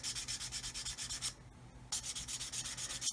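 Panel line on a Kitty Hawk 1/32 OV-10 Bronco plastic model being sanded between strips of tape, heard as quick, rhythmic back-and-forth rubbing strokes with a short pause midway, close and alone.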